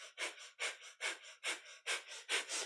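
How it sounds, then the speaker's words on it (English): Rapid, forceful breathing through the nose in a kundalini yoga breath-of-fire exercise: about a dozen rhythmic, hissing puffs in quick even pulses, close and fairly soft, with no talking. "So breath of fire is our panting breath, but through the nose."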